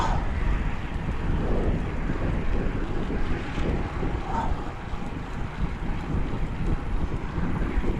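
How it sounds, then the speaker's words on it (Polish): Wind blows under the viaduct of a provincial road toward Wągrowiec during a long bike ride around Poznań, a steady, loud, roaring rush of gusts buffeting the microphone throughout. "Pod wiaduktem drogi wojewódzkiej do Wągrowca wieje."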